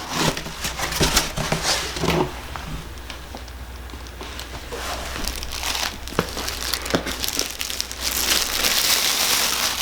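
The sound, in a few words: dog playing with crinkly packing paper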